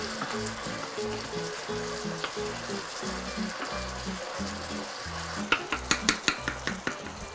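Beef browning in a pot for Italian spezzatino stew, a continuous sizzle with repeated scraping stirs, followed by a run of sharp utensil knocks against the pot near the end.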